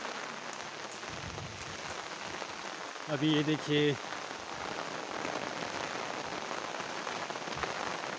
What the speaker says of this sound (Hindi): काफ़ी ज़्यादा बारिश हो रही है पहाड़ों में।